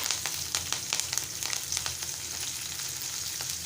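Cumin, asafoetida and chillies crackle and sizzle in hot oil for a Malvani-style okra dish, a steady bright frying hiss dotted with quick spattering pops throughout.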